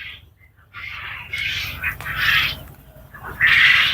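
Quail around 40 to 42 days old in a farm shed housing over 2,000 birds, giving bursts of high squawking calls in loud irregular waves over a low steady hum.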